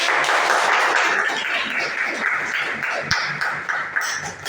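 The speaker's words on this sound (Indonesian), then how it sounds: "Beri tepuk tangan." A classroom of students claps after a presentation, the brisk applause close and fairly loud at first, then thinning into scattered claps and shuffling.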